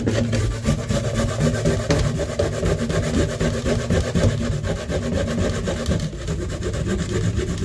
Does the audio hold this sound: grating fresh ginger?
yes